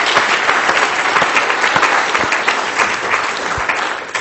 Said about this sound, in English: So I'd like to applaud all of them for coming